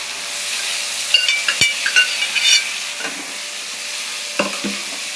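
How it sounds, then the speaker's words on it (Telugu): Boiled broad bean pieces deep frying in hot oil with curry leaves, giving a steady loud sizzle broken by several scraping stirs and knocks of a spatula in the pan. "ఇవి ఆయిల్లో బాగా డీప్ ఫ్రై అవ్వాలి"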